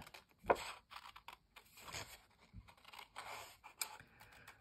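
Paper snipped with scissors for an altered book collage, a few short quiet cuts and rustles separated by brief pauses, close and faint.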